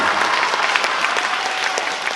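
At a school magic show, an audience bursts into loud, close applause, a thick and even clatter of many hands sustained across the moment.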